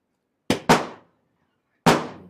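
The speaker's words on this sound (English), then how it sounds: "Fireworks, celebrations." Fireworks at a cricket final celebration go off as three sharp booming bursts, two in quick succession and one after a pause, each loud and close with a decaying rumble and no speech.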